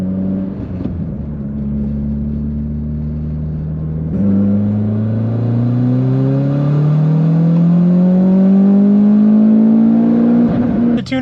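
A Mitsubishi Lancer Evo X on E85 flex-fuel tuning pulls hard in third gear from 3,500 to 7,000 rpm, its engine note climbing steadily and loud after a brief gear change, with no talking.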